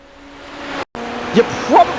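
An Indy NXT race car on track at Laguna Seca gives a steady, loud engine drone that cuts out briefly, then returns with two short sharp bursts near the end.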